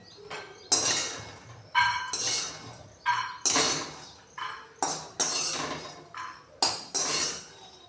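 Roasted peanuts are scraped from a metal pan onto a plate in a series of about eight loud, sharp metallic scrapes and clinks, evenly spaced, each fading quickly.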